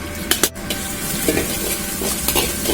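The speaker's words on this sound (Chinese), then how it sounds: "下入姜蒜和红辣椒炒香" Ginger, garlic and red chili are stir-fried in a little scallion oil in a wok, making a loud, continuous sizzle close by, broken by a few sharp clanks and scrapes from the stirring.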